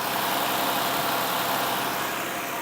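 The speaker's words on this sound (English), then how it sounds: "It's idling high, but that might be because I've had the" A car engine idles high and steady after its battery was long disconnected, a constant close rumbling hum with no other sounds.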